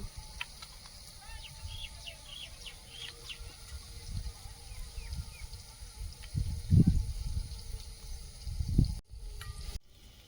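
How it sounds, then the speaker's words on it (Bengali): Chopped vegetables, including eggplant, are washed by hand in water, with soft sloshing and a few louder splashes near the end while birds chirp in the background. "একটু কুচিয়ে নিয়ে আর ধুয়ে নেব"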